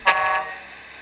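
Electronic horn from a Tamiya MFC-03 RC truck sound unit, one short toot that swells and then lingers as a steady tone before fading, close and clear with no talking.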